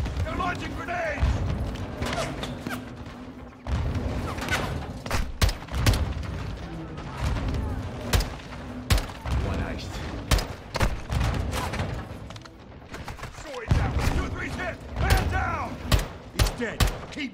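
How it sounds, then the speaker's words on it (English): Grenade launches and gunfire ring out in the video game Call of Duty Modern Warfare 2, with repeated sharp loud blasts and bursts, some rapid, amid battlefield noise and shouted voices. "Incoming! Take cover! They're launching grenades!"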